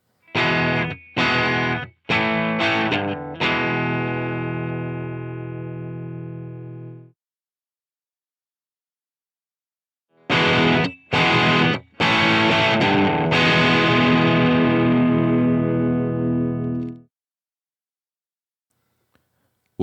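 Electric guitar through an Amplitube amp simulator with the audio interface gain turned fully down, heavily distorted: a few sharp chord stabs, then a long sustained chord, silence, and another run of stabs ending in a ringing chord.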